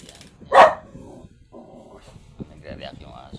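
A dog gives one loud, close bark, followed by quieter whimpering yips and someone speaking beside it.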